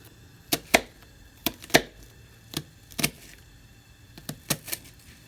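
A knife dices vegetables widthwise on a cutting board for spaghetti and meatballs, about a dozen sharp close chops landing singly and in quick pairs with short pauses between.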